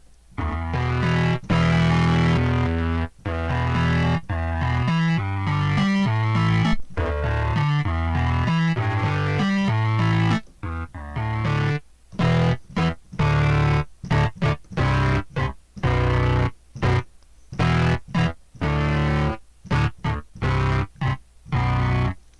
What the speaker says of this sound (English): Let's add a distortion plug in here.